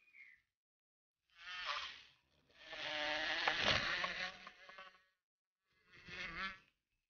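A feisty bee guarding a tunnel nest against a mouse buzzes loudly and close in three separate bursts, the middle one long and sustained, with silence in between.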